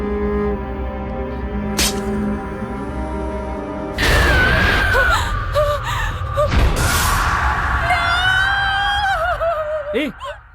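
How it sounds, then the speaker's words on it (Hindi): A woman screams in a Hindi horror film scene, a sharp high cry that rises and wavers against background music and other effects, with brief voices nearby. "चिल्ला क्यों रही हो?"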